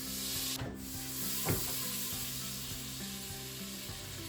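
Butter sizzles softly in a pan heating to nearly full heat, a steady low fizz under a faint electrical hum, with one or two brief scrapes.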